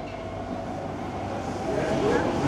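An MRT train on Singapore's East West Line runs toward Tanah Merah Interchange, a steady low rumble of the carriage with a rising squeal of wheels near the end.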